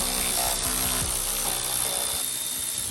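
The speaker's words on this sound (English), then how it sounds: "If you got one of these Milwaukee ratchets, they are a big help." A Milwaukee power ratchet with a T30 bit undoes screws on an Audi R8 bumper during grille removal, giving a loud, close, continuous mechanical whir with gear rattle and ratcheting pulses throughout.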